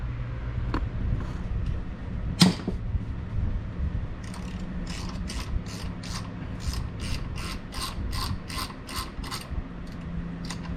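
Quick ratcheting clicks from a ratchet turning a T40 bit on the oil filter housing nut of a BMW E46 M3, a steady run of evenly spaced clicks in the second half after a single sharp knock, close by with no talk.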